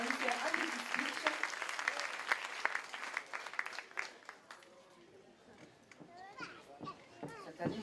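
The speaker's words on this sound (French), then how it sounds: "je voudrais qu'on applaudisse M. Palix, le maire de Bandol" An audience at a dance and fitness club's 30th anniversary party claps for the mayor of Bandol, a quieter round of applause mixed with children's chatter and voices nearby, fading and then picking up again.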